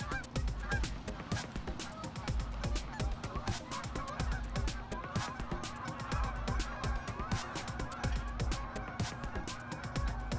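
A goose honking repeatedly and loudly at close range, rapid harsh calls running continuously without pause, no speech over it.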